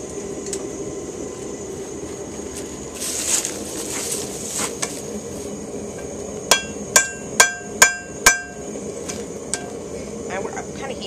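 A hammer strikes heated steel on an anvil while forging a knife, five sharp ringing blows in quick succession near the middle, with quieter clinks and hissing around them.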